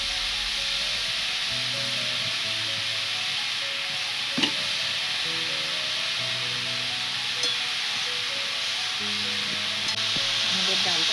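Bottle gourd curry sizzles and fries steadily in a pan while a utensil stirs it, with faint scraping strokes; the sizzle stays continuous and close throughout.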